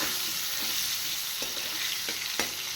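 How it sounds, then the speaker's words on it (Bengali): Potatoes frying in oil in a pan after green beans, a steady close broadband sizzle with a few soft stirring clinks, no talking. "এবার আলুগুলো ভেজে তুলে নেব"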